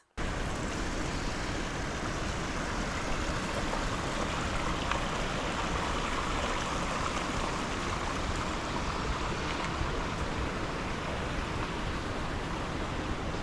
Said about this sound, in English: even had a creek flowing behind it, giving us a natural white noise to fall asleep to